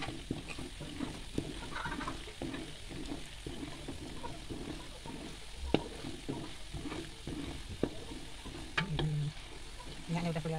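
Coconut milk being cooked down into coconut oil in a pan, a steady close sizzle and bubbling broken by repeated scraping stir strokes and occasional knocks of the utensil.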